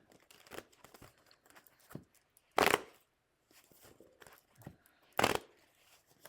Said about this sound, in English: Lots of shuffling here.